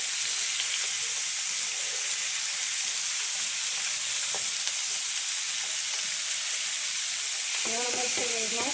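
Chicken frying in a pan for keto cheesy bacon ranch chicken, a loud, steady, dense sizzle running throughout, with a brief voice near the end.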